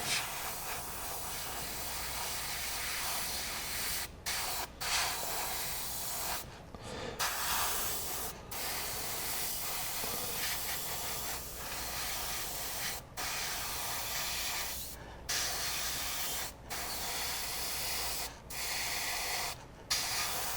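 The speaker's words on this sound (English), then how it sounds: "Now that I got some paint in the brush, we're going to lay down some real nice color here, real fast." A Gaahleri 98D airbrush sprays gold paint for a base coat, a steady close hiss of air running nearly nonstop for about twenty seconds, broken by a few short pauses when the trigger is released.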